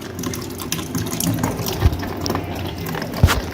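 Water runs and gushes steadily from the back of a window air conditioner, a continuous close splashing flow with a couple of brief louder splats, no talking.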